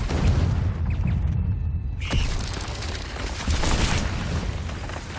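Bombarda and Confringo spell blasts in the Hogwarts Legacy game, a dense rumbling barrage with a sharp burst near the middle and continuous booming debris throughout.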